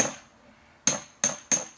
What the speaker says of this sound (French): J'avais un marteau, voilà. Comme c'est une tôle assez souple